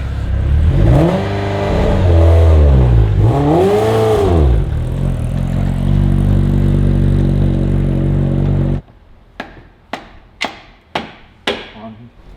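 A Ferrari Testarossa engine revs hard and loud for about nine seconds, rising and falling in sweeping surges, before cutting off; several sharp metallic knocks follow, like tools striking parts.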